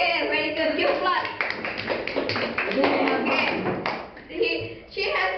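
A small group claps at a class final assignment presentation, a scattered patter of hands mixed with talking voices throughout.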